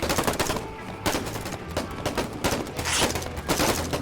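Dense gunfire in a Vietnam War video game, rapid machine-gun bursts and overlapping shots rattling continuously at steady loudness with brief sharp peaks.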